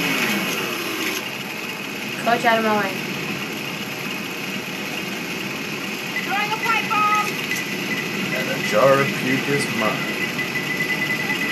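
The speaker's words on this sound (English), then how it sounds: "Chainsaw." A chainsaw idles and buzzes in the zombie shooter Left 4 Dead, a constant engine drone with a high whine running under players chatting over voice chat.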